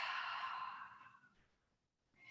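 A long, breathy exhale during a yoga forward bend, steady and close at first, then trailing off softly before a brief breath sound returns at the end; no talking.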